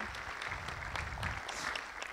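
Audience applause greeting a science historian at a talk, a dense steady patter of many hands clapping from a seated crowd, moderately distant and continuous.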